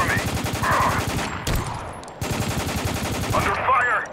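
Rapid automatic gunfire in the war shooter Spec Ops: The Line, loud bursts of machine-gun fire with a short pause midway, then the barrage resumes with shouting voices over it.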